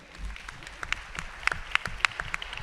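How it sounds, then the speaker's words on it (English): Applause from a student audience at a new student orientation session, a moderate crowd clapping with rapid sharp claps growing louder and denser toward the end, no talking over it. "give yourselves a round of applause"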